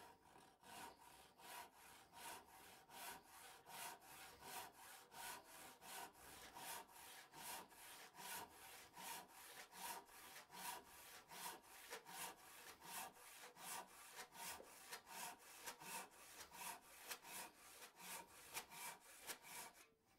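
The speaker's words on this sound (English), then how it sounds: "Big thing with fast cuts, being able to cut quickly, is using the full length of the saw, as you can see in what I'm doing here." A Disston hand saw rips quickly through a wooden table leg with full-length strokes, a rapid, steady rasping rhythm of back-and-forth cuts, close and continuous for the whole stretch.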